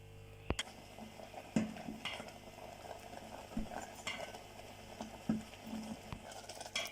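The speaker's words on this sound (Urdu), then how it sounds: "اسے اب ہلکی آنچ پہ پکاتے رہیں اور چمچ بھی ہلاتے رہیں ساتھ ساتھ۔" Spoon stirring egg halwa in a pan over low heat with desi ghee, giving scattered scraping and clinking taps over a steady low cooking hiss.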